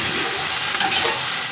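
Chopped tomatoes and black pepper with cloves sputter loudly in a hot pan for a brief, continuous stretch of close-up frying hiss.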